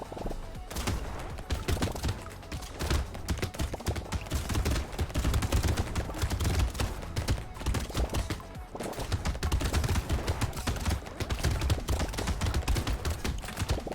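In the video game Brotato, an SMG fires rapid, dense bursts of gunfire. The shots crackle continuously for the whole stretch, loud and busy, with no talking.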